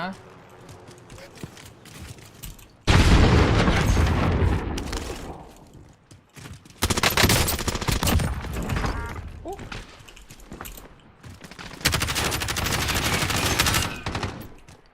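Bursts of rapid automatic gunfire from a Kilo-141 assault rifle in Call of Duty: Warzone crackle in three loud stretches, separated by quieter pauses with muffled background noise and some talking.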